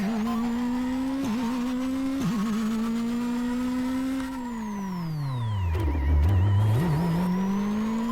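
A Moskvitch Soviet car in Shakedown Rally drones loudly at steady revs, dips and wobbles between gear changes, then drops low and climbs again as the engine picks back up.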